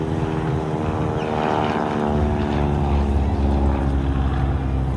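An aerobatic pop plane at a beach air show noses down to build airspeed, its propeller engine droning steadily and loudly with a rising, rough whine, heard from a distance under a voice commentating.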